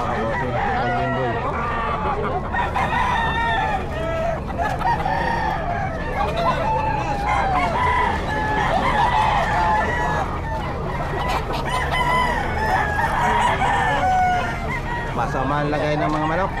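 Several roosters crow over and over at a pet market in Bocaue, overlapping each other, with hens clucking and people chattering in the background throughout.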